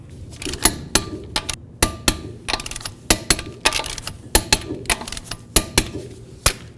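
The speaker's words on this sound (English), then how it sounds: "We'll start all of our lug nuts, get the wheel on the ground, and then we'll torque them all to 80 foot-pounds." Wheel lug nuts on a 1998-2002 Honda Accord are tightened with a wrench to 80 foot-pounds. Close, sharp metallic clicks come in quick irregular bursts, with no talking.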